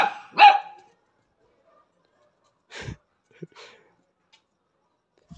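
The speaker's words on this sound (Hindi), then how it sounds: "मेरे पे भौंक रहा है तू" A dog barks close by in a few sharp, separate bursts spaced by silence, including one louder bark near the start and softer short woofs and breaths later.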